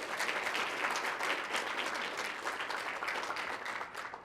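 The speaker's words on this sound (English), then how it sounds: "Give her a round of applause." Dense, steady applause fills a room at Weslaco High School for a softball player's college signing, with many hands clapping at once and a faint murmur of the crowd beneath.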